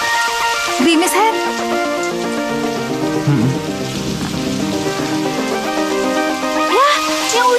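Light drizzle patters steadily outdoors, a soft continuous hiss of rain on surfaces running the whole way under a prominent music score.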